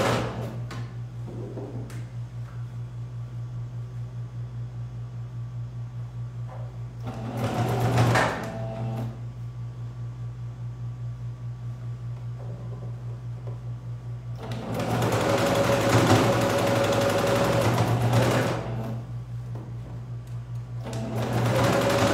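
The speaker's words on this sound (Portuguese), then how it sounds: "então eu costuro esticando" Sewing machine stitching the cuff of a jacquard dress, stretching the fabric as it goes: a steady near hum under two loud, fast-running bursts of stitching, with quieter idle stretches between them.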